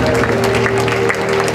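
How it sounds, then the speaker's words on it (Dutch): Applause from the audience at a women's boxing match in Rotterdam, a brief dense burst of clapping from a crowd indoors, with a steady tonal hum and some voices mixed in. "Graag een groot applaus voor de beide dames Verena Velo en Sherida Mitchell."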